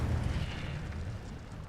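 Incendio fire spell cast in the video game Hogwarts Legacy: a short, low rumbling burst of flame with a dense whooshing roar, loud and sustained for under two seconds with no talk.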